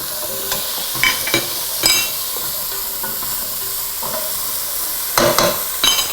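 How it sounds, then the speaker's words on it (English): Carrot ginger soup is stirred in a pot with a spoon, making soft scraping and clinking strokes at irregular intervals over a gentle simmering hiss. "So I'm gonna mix this up."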